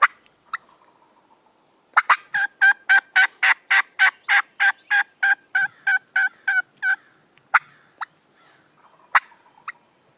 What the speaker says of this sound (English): just listen to these birds hammering